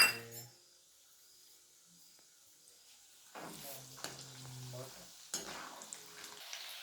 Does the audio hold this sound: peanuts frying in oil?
yes